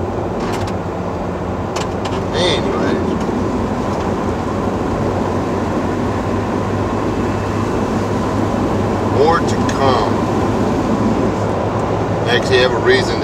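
A pickup work truck rolls along with a steady low engine drone and road rumble throughout, loud and continuous, with a few faint clicks and rattles above it; no speech is heard.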